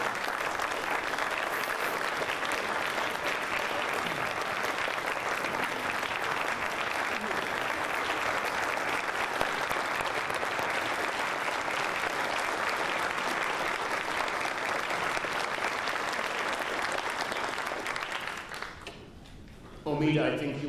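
A consortium conference audience breaks into long, dense applause for speaker Omid Safi. It holds steady for about twenty seconds before tapering off.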